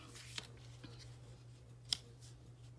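Scissors snip through a paper stamped image in a few faint, separate cuts over a low steady hum.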